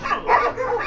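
Dogs at a stray dog shelter in Morocco give short, close yips and barks in a quick burst, loud and slightly muffled.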